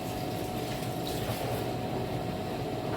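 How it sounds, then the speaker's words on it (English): Spring onion rinsed under a running kitchen tap, a steady, continuous rush and splash of water close by with no pauses and no talk. "Rinse off my onion again."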